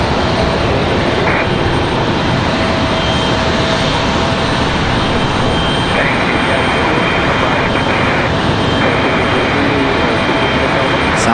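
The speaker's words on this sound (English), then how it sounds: "Southwest looks like they're ready for departure already." A Southwest Airlines jet departs Raleigh-Durham International with a loud, continuous engine roar that fills the whole stretch, a high whine layered on top, close and strong.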